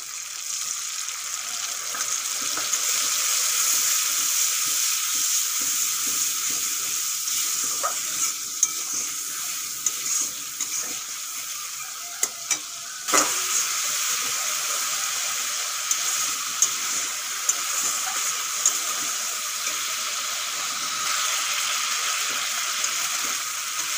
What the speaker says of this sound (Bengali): এখন জল দিয়ে যেই মশলাগুলো আমি ফেটে রেখেছিলাম দিয়ে দেব